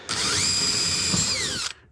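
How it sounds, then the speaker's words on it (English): A power drill fitted with a dull 1/4 inch bit bores steadily for under two seconds while an overhead cabinet is being installed, giving a loud, continuous whine with a pitch that dips near the end before cutting off. "let's get our 1/4 inch. Let's go a little bigger. This drill bit is not sharp."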